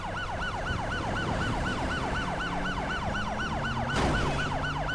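A police car siren in the video game LSPDFR (GTA V) wails loudly in a fast, repeating up-and-down yelp over a steady engine drone, with a brief bang-like burst near the end and no talking.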